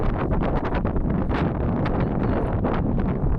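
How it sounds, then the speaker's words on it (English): Strong wind buffets the microphone in heavy, continuous gusts near rocks at Ameghino in Patagonia, Argentina, a loud rumbling roar that fills the whole clip with no voices heard. "It's a little breezy, very windy."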